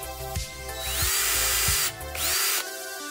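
A small power drill widening screw holes in cardboard for a Macintosh Plus replica build, whirring in short bursts that rise and fall in pitch, with brief pauses between runs, close and fairly loud.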